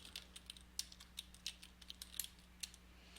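Fingers tap on a computer keyboard in quick irregular clicks, close and fairly quiet over a low steady hum, with no talking.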